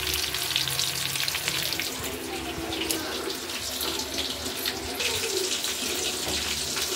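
Drumstick leaves (munagaku) frying in a pan, giving a steady, dense sizzle and crackle that continues close and fairly loud throughout, with no talking.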